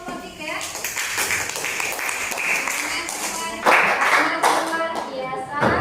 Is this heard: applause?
yes